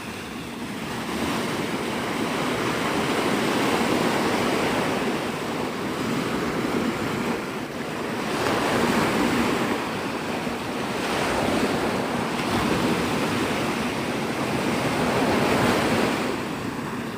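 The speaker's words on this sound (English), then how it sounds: "I like to listen to the waves." Ocean surf rolls onto the beach at Navarre Beach, Florida, at sunrise, a steady wash of breaking waves swelling and fading in slow cycles, with gusty wind rumbling across the microphone and no talk.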